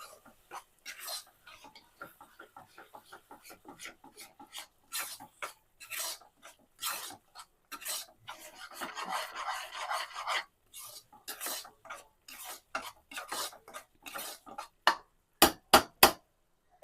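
Repeated scraping and rubbing strokes of a spoon stirring a thick onion pickle mixture in a pan, irregular rhythm, close and moderately loud.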